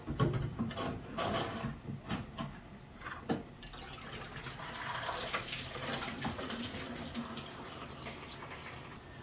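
Coolant drains and splashes while a radiator is pulled from a G-Body Cutlass, a steady close trickle and pour of liquid with a few knocks and clunks of parts near the start.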